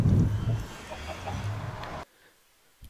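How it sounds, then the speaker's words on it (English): A Minecraft chicken clucks in quick, close bursts over a low rumble of game ambience for about two seconds, then cuts off to near silence. "Chicken. I heard a chicken."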